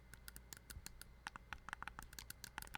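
Back buttons on a Scuf Valor Pro controller pressed against a microphone give a rapid run of sharp, light clicks, very close and otherwise quiet.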